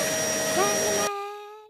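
A vacuum cleaner drones steadily for about a second with a whine that rises in pitch, then cuts off and its tone lingers as it spins down, no talk over it.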